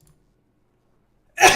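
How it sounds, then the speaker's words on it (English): A single loud sneeze bursts out at the very end after near silence, close to the microphone and brief. "Sneeze."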